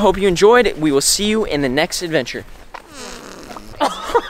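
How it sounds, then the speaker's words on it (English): A person speaks clearly in the first half, then a low, rumbling fart sounds near the end beneath quieter voices, outdoors at the Cliffs of Moher, Ireland. "You just farted on camera."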